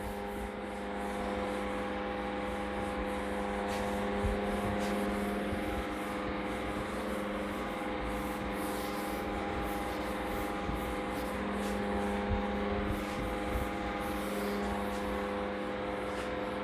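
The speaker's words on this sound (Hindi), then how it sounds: "चलिए रब करते हैं।" Steady, continuous rubbing or scrubbing on a board during a Hindi physics class, a dry even friction sound running for many seconds without pause, close and fairly loud, with no speech over it.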